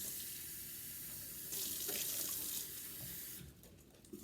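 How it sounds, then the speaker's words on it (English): Tap water runs steadily into a small container, about a cup's worth, for dyeing fabric, a continuous close hiss and splash that brightens midway and then eases off near the end. "I take one of the containers and I put almost a cup of water in."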